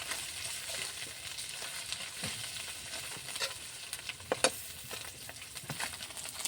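Onions fry in oil with a quiet, continuous crackle and sizzle while being stirred, with scattered soft scrapes and taps of the spoon against the pan.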